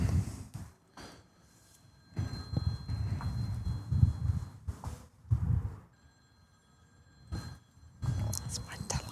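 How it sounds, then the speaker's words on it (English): A telephone rings in the background at a lawn bowls singles semi-final, with faint repeated tonal bursts sitting under commentators' talk and crowd noise. "phone ringing in the background"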